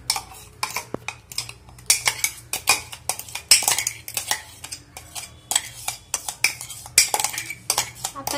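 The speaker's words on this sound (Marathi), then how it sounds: "आता ही प्युरी मी एका वाटीमध्ये काढून घेते" Puree being scraped out of a blender jar into a bowl while making paneer masala, heard as a run of close, sharp clinks and scrapes of a spoon against the jar and bowl in irregular bursts, with no talking.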